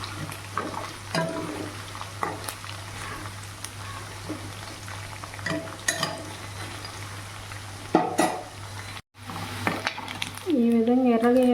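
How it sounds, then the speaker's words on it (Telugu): Chicken pieces frying in a pan for spicy chicken pickle, a moderate sizzle with intermittent stirring scrapes and clinks, close by, with a few brief voice sounds near the end. "ఈ విధంగా ఎర్రగా అయ్యేంత వరకు ఫ్రై చేసుకోవాలి."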